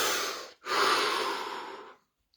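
A single deep breath, a long, airy inhale or exhale lasting over a second after a short pause, close and fairly loud, trailing off into silence during a guided body-relaxation session.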